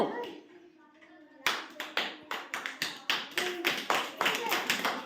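A group of children claps together in a quick, fairly even rhythm of sharp, close claps, after a short stretch of quiet talk.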